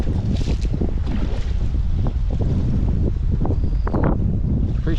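Heavy gusting wind buffets the microphone on a fishing boat on the Columbia River, a constant roaring rush with water slaps and small knocks scattered throughout.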